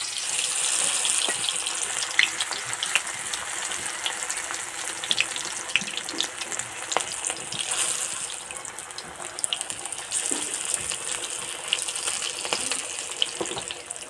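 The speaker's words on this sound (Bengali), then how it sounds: "গরম হয়ে গেছে, এবার পকোড়া ভেজে নেব।" Flattened cabbage pakoras fry in hot white oil, a continuous bright sizzle with scattered sharp crackles and pops over several seconds and no voices.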